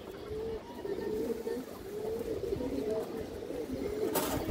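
Pigeons coo in a low, steady throaty drone close by, with faint voices mixed in underneath and a brief sharp noise near the end.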